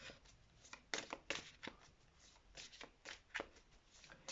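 Witches' oracle divination cards being shuffled by hand, a quiet, close series of soft riffling flicks and slaps in irregular rhythm, with no talk.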